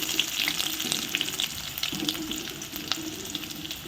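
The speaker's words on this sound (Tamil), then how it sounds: "இப்போது இது கூடயே நம்ம கட் பண்ணி வச்சுருக்க ஆனியன் ஆட் பண்ணிக்கலாம்" Cut onion hitting hot oil with green chilies, curry leaves and fennel seeds, a steady close sizzle and crackle with occasional stirring scrapes, no voices over it.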